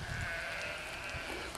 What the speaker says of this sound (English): The only sounds are the bleating of the sheep.